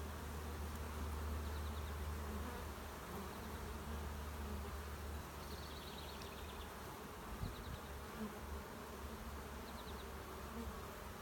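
Honey bees buzz around an open beehive during a hive inspection on a hot day, a steady close swarm hum that runs throughout with no talk.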